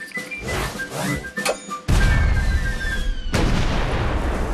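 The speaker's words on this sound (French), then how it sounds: "lorsqu'il parvint à repousser les Anglais sous le feu terrifiant de ses canons" Cannon fire during the siege of Toulon as the English are driven back: two heavy, close booms with long rumbling tails, preceded by fainter rattling and crackling.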